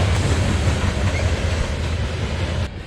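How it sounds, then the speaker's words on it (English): A heavy freight train of oil tank cars rumbles steadily close by near forest-hidden paper mill ruins, a loud continuous low roar with rolling wheel noise that holds for nearly three seconds before easing slightly at the end. "I felt that train before I saw it or even heard it"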